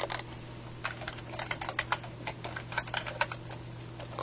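Fingers typing a project name on a computer keyboard, a quick run of close, crisp key clicks in uneven bursts with no speech.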